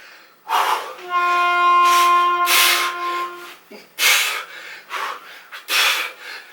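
Heavy, forceful breathing during kettlebell swings, with rhythmic sharp exhales and gasps close to the mic, broken by a brief strained whistling tone early on.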